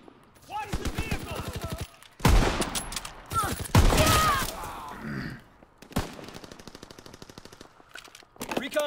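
Rapid machine-gun bursts and rifle shots from the Call of Duty WWII video game, loud and close, several fusillades separated by short pauses, with game sound and a brief voice mixed in.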